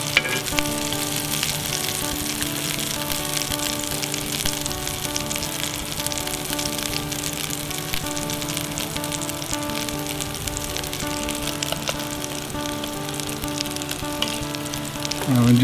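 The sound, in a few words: pork tenderloin and mashed potato cakes frying in a pan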